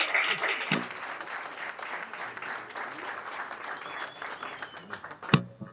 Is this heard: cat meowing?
no